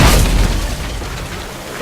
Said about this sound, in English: Then empty the cannons on him, me hearties!